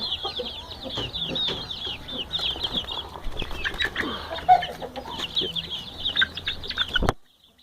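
Young fighting-breed chicks, offspring of a rooster, peep and cluck in a rapid chattering stream, with a brief wing flap and scuffling, nearby and steady until an abrupt cut.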